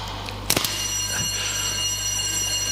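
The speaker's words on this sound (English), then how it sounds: "Then you can hear an alarm bell ringing." An alarm bell rings steadily at the Grimeton radio station's longwave transmitter hall, a continuous bright ring over the constant hum of running machinery, with a few brief knocks near the start.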